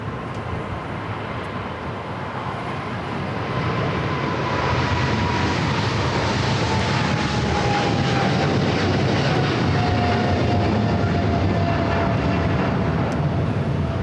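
An airliner landing on runway 25 left at Los Angeles International Airport gives a loud, steady jet roar that swells after a few seconds and carries a thin whine sliding slowly downward. No voices.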